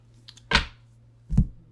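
Tarot cards being shuffled during a reading, heard as two short papery riffling bursts close to the mic, separated by a brief pause, with no talk over them.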